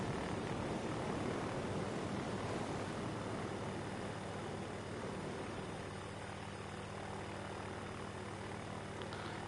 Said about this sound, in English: You see at our 12 o'clock that aerobatic airplane circling around us again.